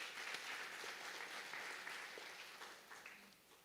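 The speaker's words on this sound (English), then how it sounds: "give them a round of applause" Steady applause from a crowd honoring graduates at the HLSCC class of 2021 graduation ceremony, a dense, even clapping that holds for several seconds before tapering off slightly at the end.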